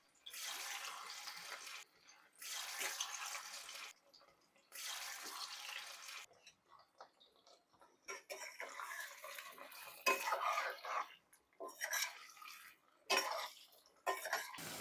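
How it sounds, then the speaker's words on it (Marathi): Potato pieces frying in hot oil in a home kitchen, a steady broadband sizzle that swells and breaks off in bursts, rising and falling as the pieces are stirred, with no talking. "आता आपलं तेल तापलेलं आहे तर आपण हे बटाटे सोनेरी रंगावर तळून घेऊयात"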